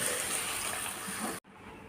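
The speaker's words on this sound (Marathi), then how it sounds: "तर आता आपण पाणी घालणार आहोत" Water is poured cup by cup into a pan for a quick breakfast dish, a steady close splashing gush that cuts off sharply, then a quieter pour begins.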